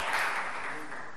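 Church congregation applauding during a Spanish-language service: a short burst of clapping, fairly faint and diffuse, fading within about a second.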